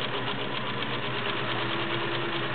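A vintage all-metal Kenmore model 1730 sewing machine runs steadily while stitching leather, a continuous close motor hum and rapid needle chatter that keeps going evenly throughout with no voices.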